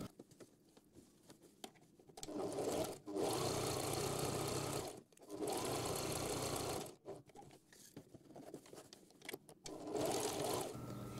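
A sewing machine stitches the lining of a tote bag in three long bursts, a fast even whirring rattle that stops and starts between short pauses.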